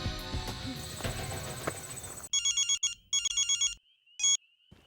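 A telephone rings with a bright electronic ringtone in repeated short bursts during a tense crime drama scene, after a stretch of busy background noise, with a final single burst after a pause.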